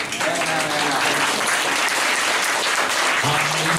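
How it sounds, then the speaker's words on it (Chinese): Steady audience applause fills a talk venue, a dense wash of clapping held at an even level throughout with voices faintly mixed in. "请他也给他一点掌声"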